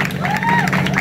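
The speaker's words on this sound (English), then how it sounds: "Can you give a round of applause" At a youth centre launch, a crowd breaks into applause with clapping and cheering that blurs into a dense, loud wash under a voice calling out.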